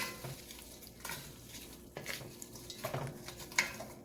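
A spoon stirs a pot of keto coconut red curry soup, with soft scraping and a few clinks against the metal that grow louder and sharper toward the end.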